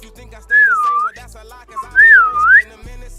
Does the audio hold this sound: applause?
no